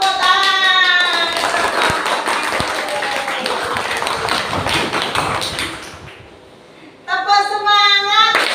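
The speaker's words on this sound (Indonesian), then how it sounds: "Tepuk tangan." Classroom students clapping hands together after a group presentation, a busy burst of close claps lasting several seconds, fading briefly before voices chant and talk resumes.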